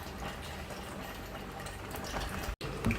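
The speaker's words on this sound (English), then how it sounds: "You just let the pasta boil till it's al dente." Pasta boils in a pot of water on the stove, with a steady rolling bubble and burble running continuously at moderate level close by, broken by one brief dropout near the end.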